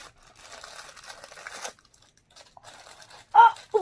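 Plastic wrapper on a LOL Surprise JK doll package crinkles and crunches in close, scratchy bursts as it is torn open, with a short pause between handlings.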